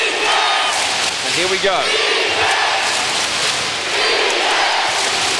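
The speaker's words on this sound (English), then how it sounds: "Listen to that crowd." Basketball arena crowd at an NBL Grand Final between Adelaide and Perth roars loudly and continuously, with a commentator talking over the din.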